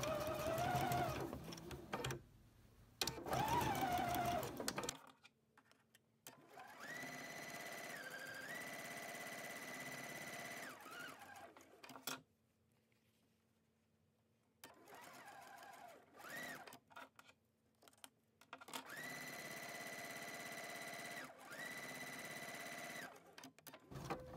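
A sewing machine stitches fabric strips for a log cabin quilt block in several whirring bursts of a few seconds each, separated by quiet pauses, close and clear.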